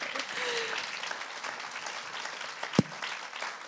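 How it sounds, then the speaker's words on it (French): An audience at a women's business award ceremony applauds a trophy winner, fairly quiet, steady clapping from a crowd with a sharp louder knock or thump near the end and faint voices mixed in. "Et ça s'applaudit."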